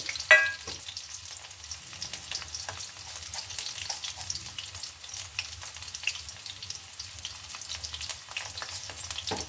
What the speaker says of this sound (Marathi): आता हा भरपूर असा लसूण सालीसकट घेतलाय, तो जरा ठेचून घेतलेला आहे, तो आपण ऍड करू त्यामध्ये।